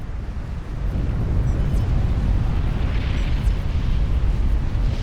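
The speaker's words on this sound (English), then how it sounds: "Nuke goes out just as one goes in, and that looks like it's going to connect with MrScience" Nuclear missile detonation in the strategy game Supreme Commander, a deep, sustained rumbling roar that swells loudly after the first half-second and keeps booming without a break.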